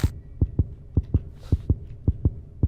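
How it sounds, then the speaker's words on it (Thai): Heartbeat thumping in the horror game Granny, a steady double-beat pulse repeating about every half second, close and prominent over a low hum, with no one talking. "อะไรคือตึกตักตึกตัก"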